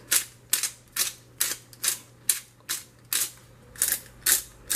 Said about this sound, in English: I'm just gonna grind about half teaspoon